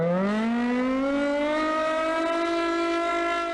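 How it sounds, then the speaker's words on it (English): A Thunderbolt air raid siren winds up, its wailing tone rising steadily in pitch and then holding a loud, sustained howl. "We have a Thunderbolt siren that a lot of you may be familiar with seeing"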